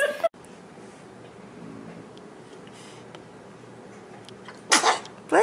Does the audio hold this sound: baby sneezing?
yes